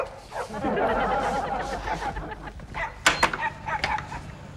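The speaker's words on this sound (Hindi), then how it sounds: "बाहर वाकई कुत्ता भौंक रहा है।" A dog barks outside at night a few times, somewhat distant and mixed with voices and scattered household sounds, followed by louder sharp noises near the end.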